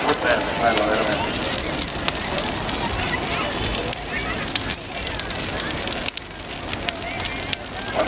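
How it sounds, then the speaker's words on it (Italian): Large Brusa a Vecia festival bonfire crackling and roaring outdoors, a dense continuous hiss of flames with frequent sharp pops, heard under steady speech from a nearby voice. "Guardate come la fiamma è diretta verso il cielo, a piombo"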